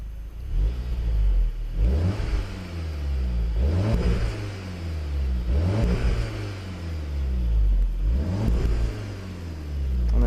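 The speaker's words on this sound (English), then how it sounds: "It's got a real bassy exhaust note even on idle." A 2015 Volkswagen Golf R Mk7 is revved repeatedly while parked, its bassy exhaust climbing in four or five evenly spaced rising sweeps that drop back to a deep idle rumble, loud and close with no talking.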